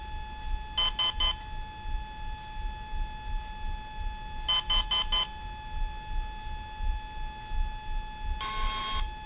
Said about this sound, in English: That's the long beep.